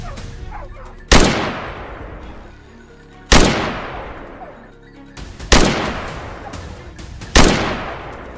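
Four loud, sharp rifle shots ring out at roughly two-second intervals while hunting wild boar in a frozen winter forest. Each crack has a long echoing decay through the trees, and a faint dog bark is heard between them.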